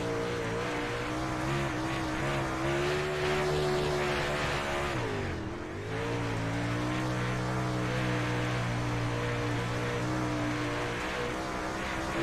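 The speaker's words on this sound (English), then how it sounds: "Let's go on board and listen to the throttle in the car" Onboard super late model race car engine at Knoxville dirt track, loud steady high-revving drone with a brief throttle lift and dip around the middle before revving back up, continuous and close throughout.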